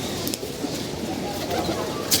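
A flock of around two hundred pigeons on a rooftop loft coos in soft, low, rolling calls that overlap steadily, and a faint voice occasionally sits underneath.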